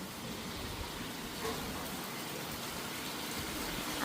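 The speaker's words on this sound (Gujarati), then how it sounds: "અમારે છે ને આજ આવ્યો વરસાદ" Steady, even hiss of early-morning rain falling on surfaces around a rural Gujarat home, continuous and enveloping with no voices.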